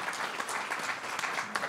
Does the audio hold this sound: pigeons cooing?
no